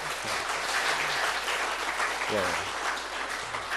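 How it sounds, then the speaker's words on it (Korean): A Korean church congregation gives a round of applause for the choir, steady clapping throughout, with a short spoken reply and scattered voices mixed in. "시온 성가대도 위해서 감사 박수 주시죠."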